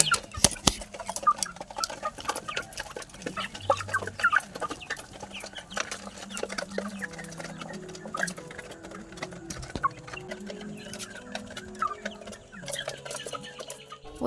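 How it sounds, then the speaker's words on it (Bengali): Twenty Vanaraja chicken chicks cheep and cluck nearby once let out, with a busy run of short calls and scratchy rustles, louder and more crowded at the start. "এবারে আমি দেখো এই যে মুরগি বাচ্চাগুলো সব ছেড়ে দেবো।"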